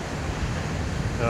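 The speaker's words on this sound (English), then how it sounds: "You'll have to excuse the wind." Steady wind buffeting a microphone outdoors at the beach, a constant broadband roar with faint surf beneath, no voices.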